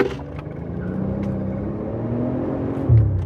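A Mercedes CL65 AMG V12 engine held at wide open throttle inside the car, a loud steady droning rumble with a slight rise in pitch and a short bump near the end.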